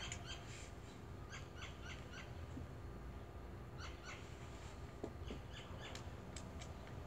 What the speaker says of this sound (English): Birdies chirping?